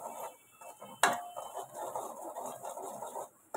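A spoon stirs chhole bhaji in a pot, starting with a sharp clink against the rim and followed by soft, repeated scraping and sloshing at moderate volume.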